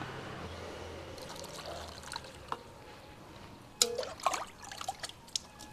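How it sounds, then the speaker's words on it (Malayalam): Water poured onto soil spread out to make mud for planting lotus and water lilies, a quiet trickle and splash over faint background hiss, with a few sharper splashy bursts toward the end. "അപ്പോൾ ഞാൻ ദേ ഇതുപോലെ കുറച്ച് വെള്ളം ഒഴിച്ചു കൊടുക്കുവാണേ"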